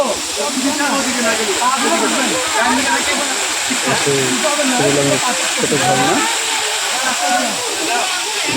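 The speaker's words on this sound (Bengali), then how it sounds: "সামনে ঝর্নার আওয়াজ পাচ্ছি আপনারা হয়তো পাচ্ছেন" A small waterfall at Shuvolong on Kaptai Lake in Rangamati pours a steady, hissing rush of falling water close by, continuing without a break while people talk over it.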